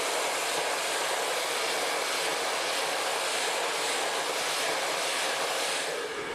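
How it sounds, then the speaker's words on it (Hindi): A hair dryer blowing steadily while curly hair is dried at the roots, a loud continuous broadband whoosh close by with no pauses or talk. "ड्रायर जब भी करते हैं फास्ट मूवमेंट पे करना होता है।"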